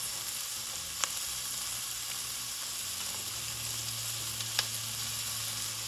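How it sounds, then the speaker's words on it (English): Celery sizzling and frying in a hot pot for a wild rice, mushroom and butternut squash soup, a steady close crackle with a couple of sharp pops and no voices. "I'm going to put in my celery next."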